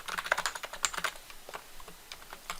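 Quick, close clicks of a computer keyboard while someone types, including Ctrl+C and Ctrl+V copy-paste presses, coming in irregular bursts of keystrokes alone with no talking.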